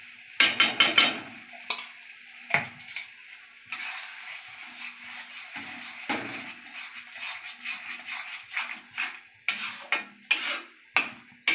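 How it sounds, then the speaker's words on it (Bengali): Pointed gourd and shrimp paste cooking in mustard oil in a pan, stirred with a utensil that makes irregular scraping and clinking bursts over a soft, quiet sizzle. "এটা নাড়তে নাড়তে একদম শুকিয়ে নিতে হবে"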